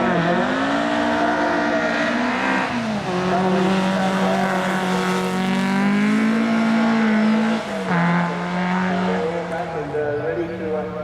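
A Volkswagen race car finishing a lap of a track, downshifting to first gear and braking hard, its engine whining and falling in pitch over the gear changes, loud and continuous with a commentator talking over it.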